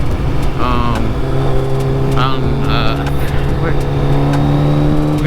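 A Kawasaki ZX12R motorcycle running rich, its engine holding a loud, steady idle-to-mid rev with a droning tone, while people talk nearby over it.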